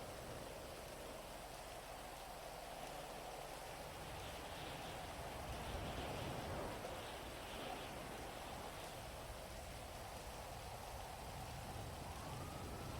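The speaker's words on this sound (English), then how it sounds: "It's fucking raining." Rain falls in the video game GTA V as a soft, steady wash of noise at low level, with no clear talk over it.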